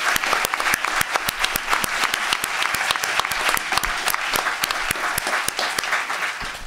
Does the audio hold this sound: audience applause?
yes